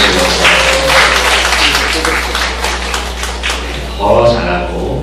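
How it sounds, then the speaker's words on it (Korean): A church congregation applauds the worship team, teachers and students, a broad, dense wash of clapping that stays loud throughout over a low steady hum, lifting again near the end. "힘차게 박수 한번 보내주시고"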